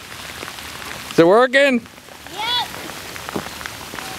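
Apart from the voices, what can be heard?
rain falling in a yard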